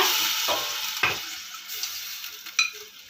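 Mutton added to a pan of onions and curry leaves, frying with a steady loud sizzle while it is stirred, with a few scraping strokes of a spoon against the pan, close up and with no talking.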